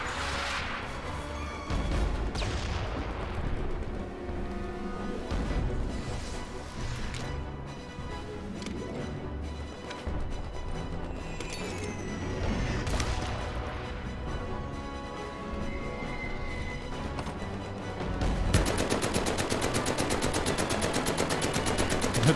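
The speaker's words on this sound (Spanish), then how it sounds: "Estoy disparando contra los míos." Dense automatic and rifle fire from the Omaha Beach landing in the VR shooter Medal of Honor: Above and Beyond, rattling bursts and crashing impacts continuing loudly throughout, with the barrage growing heavier near the end.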